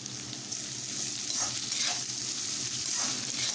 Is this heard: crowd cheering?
no